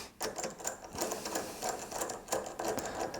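A box spanner loosens nuts on a Glasshouse speaker kit, producing quick repeated metallic clicking and ratcheting at close range with no other sound.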